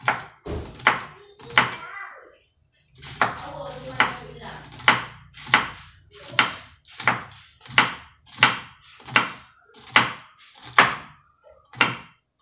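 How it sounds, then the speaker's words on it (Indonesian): A knife chops long beans on a board in quick, even strokes, about a dozen crisp close thunks with a short pause after the first few, quiet and alone. "Sekarang kita potong kacang"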